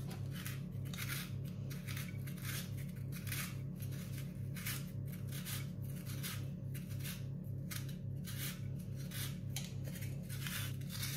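A carrot is peeled with a kitchen peeler, producing rhythmic, evenly spaced scraping strokes, close and steady, over a constant low background hum, with no speech.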